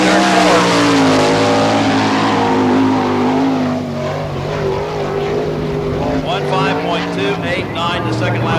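A sprint car laps a dirt speedway at a Florida Speedweek All Star Circuit of Champions event, its loud, steady engine roar shifting pitch through the turns, with a commentator talking over it throughout.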